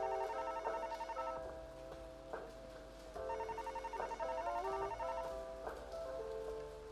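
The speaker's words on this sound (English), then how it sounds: "The phone is ringing." A telephone rings repeatedly inside a horror-themed video game, its bright electronic trill coming in steady bursts with short pauses between them, loud and close over a faint hiss.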